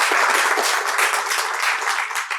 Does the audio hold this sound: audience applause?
yes